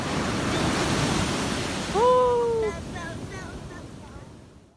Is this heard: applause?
no